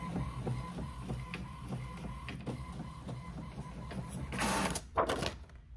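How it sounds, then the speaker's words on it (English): A desktop printer runs a full page of water slide decals, its print head clacking in a quick, even rhythm before a louder rush of paper feeding out near the end, with no talk. "I want to print a full page"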